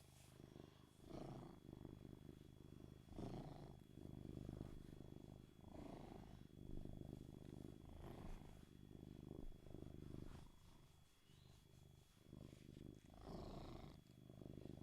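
A cat purrs steadily and close up, a continuous low rumbling with a rhythmic in-and-out pulse, running the whole time with no talking.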